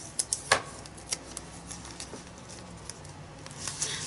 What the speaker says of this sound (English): Cut my tape so the tape stays down